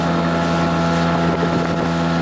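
A Flagman motorboat driven by a 5 hp outboard motor on a river, its steady droning engine running loud and close throughout with wind buffeting the microphone.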